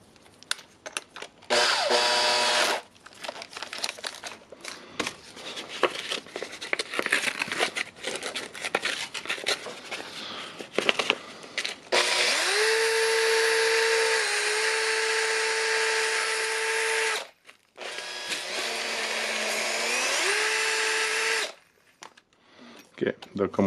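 Makita DDF482 cordless drill with a bad armature, handled and then run in two long steady whirring bursts, the motor spinning up and holding a high whine, close and loud, after a stretch of clicking and rattling.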